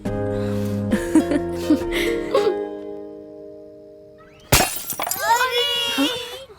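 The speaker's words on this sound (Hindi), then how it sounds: "कितनी बार समझाया है, फिर से कांच तोड़ दिया तुम लोगों ने।" A glass window pane broken by a ball in a residential neighbourhood: a sudden sharp crash of shattering glass comes after several seconds of music, and raised voices follow immediately.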